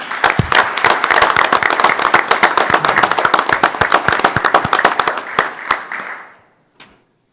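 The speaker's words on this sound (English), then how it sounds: "How about a round of applause for these parents?" Crowd applause for parents at a Village of Gurnee regular board meeting: dense, steady clapping from a roomful of people for about six seconds, thinning to a few scattered claps before fading out.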